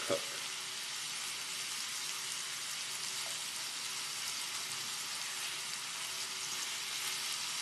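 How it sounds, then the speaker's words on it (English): Shrimp fry in a hot pan with a steady, dense sizzle that runs unbroken throughout, with a brief stir or clatter at the very start. "I'm moving the shrimp around a little more than I usually do"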